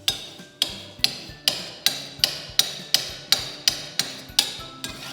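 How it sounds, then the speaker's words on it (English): A steel burnisher is drawn repeatedly along the edge of a steel card scraper to raise a burr, about eleven evenly spaced sharp strokes, each with a brief metallic ring, close and clear, with no talking. "I want to not only slide the burnisher this direction, I also want to draw the metal out"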